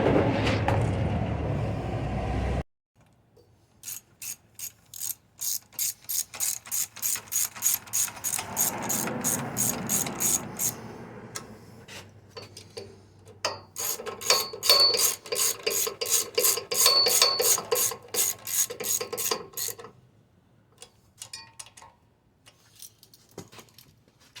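Ratchet wrench tightens the 10 mm bolts on the carburetor of a Generac Powermate 6000/7500 watt generator, giving long runs of fast, close, rhythmic clicking with short pauses between strokes. A louder burst of other noise comes first.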